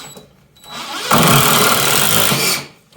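A Dewalt DCF885 impact driver drives a screw into solid wood, starting with a short whir, then a loud, steady rattling hammer for about a second and a half before stopping abruptly.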